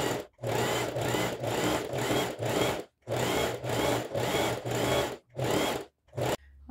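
A sewing machine runs a gathering seam around a fabric beret without backstitching, in a series of short, rapid stitching bursts separated by brief stops, close and clear.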